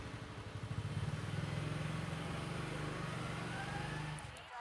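A motorcycle engine idles and rumbles close by as the bike is parked, a steady low throbbing that cuts off near the end.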